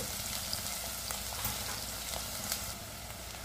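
Onions and vegetables fry in a pan for a masala vegetable pulao, a steady close sizzle with faint scattered pops and crackles throughout.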